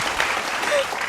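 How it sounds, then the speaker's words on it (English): Live studio audience clapping, a dense, steady burst of applause throughout a short moment with no talk over it. "Live claps."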